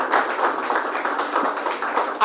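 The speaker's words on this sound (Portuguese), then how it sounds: "Palmas para o Senhor Jesus." A church congregation claps steadily together in praise of Jesus, a dense, continuous patter of many hands at close range.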